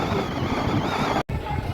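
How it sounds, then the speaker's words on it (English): Strong wind batters the microphone on a beach in Tarifa, Spain, a dense, continuous roar broken by one abrupt cut to silence before the gusting resumes. "And you can see how windy it is."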